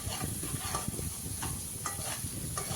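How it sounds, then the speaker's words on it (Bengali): Two bay leaves dropped into hot oil over cooked-down spices for mustard-paste katla fish curry, giving a steady close sizzle with light stirring scrapes throughout. "এবার দিয়ে দিচ্ছি 2টো তেজপাতা।"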